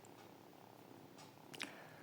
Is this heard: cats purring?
yes